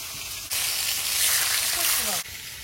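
Fish fry together in a pan, a loud hissing sizzle that swells suddenly for under two seconds amid a quieter steady frying background, with a brief scrape.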